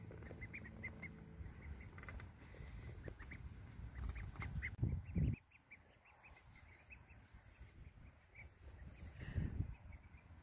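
Magpie ducks quack softly in a garden in a few scattered bursts, with louder honking calls near the middle and end over quiet outdoor background.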